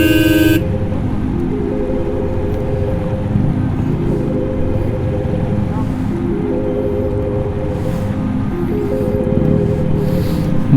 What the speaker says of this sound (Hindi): गाड़ी की चाबी सट रही थी हॉर्न में।